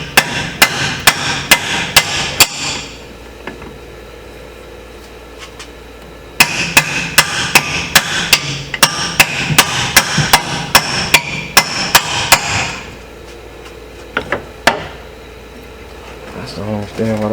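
A hammer strikes a chisel on the engine of a 2003 Polaris Sportsman 500 ATV in quick, loud metallic blows, in two bursts with a pause between them, then a few scattered taps near the end.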